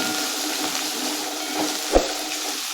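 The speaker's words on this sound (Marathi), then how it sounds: "कांदा गुलाबी कलर येईपर्यंत मध्यम गॅसवरती भाजून घ्यायचा आहे" Onion with crushed ginger and garlic frying over medium heat, a soft, even sizzle with faint stirring scrapes and one brief clunk near the end, with no talking.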